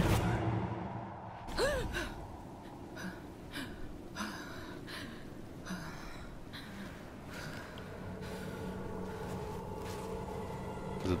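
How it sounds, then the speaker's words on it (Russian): Gasping and heavy, labored breathing from a character in the video game Diablo IV, a sharp gasp near the start followed by repeated breaths over a dense, echoing game soundscape. "Задыхается и тяжело дышит."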